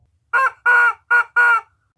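A chicken gives four loud, close squawking clucks in quick succession, each call short and harmonic with brief pauses between, and no other sound around them.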